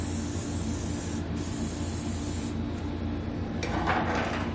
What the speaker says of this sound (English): I'm going to take a little bit of spray lubricant, I'm going to spray it on the hanger